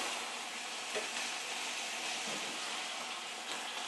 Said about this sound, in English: push it down so that both sides are getting nice and browned by the oil